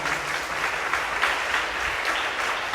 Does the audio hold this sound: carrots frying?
no